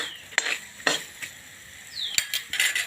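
Raisins roasting in ghee for panjiri, with a spoon stirring and clinking against the pan in sharp, scattered taps over a faint, steady sizzle, close up and with no talk.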